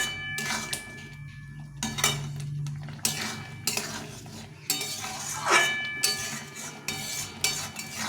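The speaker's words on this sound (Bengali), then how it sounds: "গ্যাসটা বাড়ি দিয়ে সুন্দরভাবে এভাবে ঘেট নেড়ে নেড়ে নেড়ে আচাটাকে তৈরি করে নিতে হবে" A spoon stirs tomato pickle in a metal pan over a raised gas flame, making clinking, scraping strokes in uneven bursts against the pan with quiet gaps between them, and no talk.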